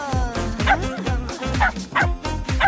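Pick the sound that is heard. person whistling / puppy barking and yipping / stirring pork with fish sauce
puppy barking and yipping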